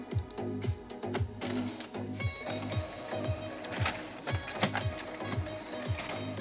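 An Epson M1100 printer prints a tattoo transfer, giving a steady run of rhythmic mechanical clicks and ticks over a constant motor whir, close and moderately loud, with no talk.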